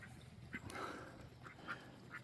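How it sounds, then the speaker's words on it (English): Ducks quacking at a backyard pond, a few short nasal calls spaced irregularly over a low steady background, moderately faint and at mid distance. "Goofy ducks."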